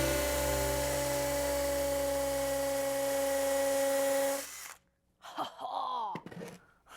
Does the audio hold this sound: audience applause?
no